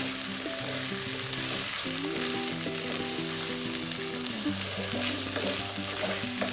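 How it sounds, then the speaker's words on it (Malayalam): Pork adobo frying in a small amount of oil, a dense, steady sizzle close up throughout with a steady tonal hum from a nearby appliance underneath, no talking. "അപ്പോൾ നമ്മളിത് ഡീപ് ഫ്രൈ ഓൾമോസ്റ്റ് റെഡി ആയിട്ടോ നമ്മൾ കുറച്ച് എണ്ണ ഇതിലേക്ക് ഒഴിച്ചിട്ടുള്ളൂ"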